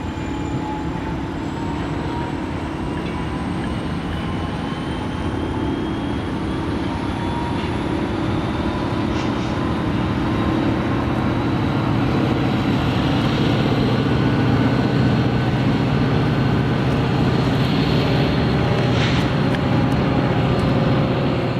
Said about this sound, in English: a hopper car train snuck up on us